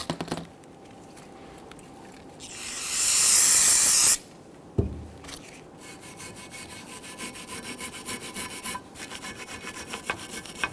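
A spray can hisses in one steady burst lasting a couple of seconds, close and loud, amid quieter rubbing and handling sounds, during a front brake replacement on a 2010–2019 Ford Taurus.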